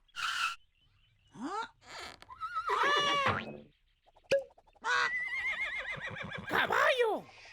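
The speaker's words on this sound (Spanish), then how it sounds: "¡Caballo!" A cartoon horse neighs and whinnies in a children's Spanish animal-sounds vocabulary lesson, with several loud, close, shrill whinnies separated by short gaps and brief other sounds.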